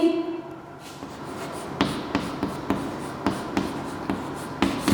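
Numbers are written on a board in a school maths class, with sharp repeated taps and scratches of the writing tool at close range, no talk.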